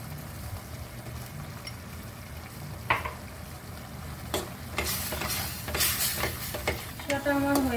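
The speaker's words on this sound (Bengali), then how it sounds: "আবার আমি মশলাটাকে কষাবো।" Spiced masala with chili powder, turmeric and salt being sautéed in a pan for Dhaba-style bhindi masala: quiet sizzling under scattered spatula scrapes and clinks that grow busier toward the end.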